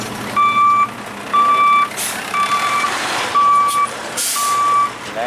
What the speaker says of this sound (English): The truck backs the trailer up onto that machine, unhitches his trailer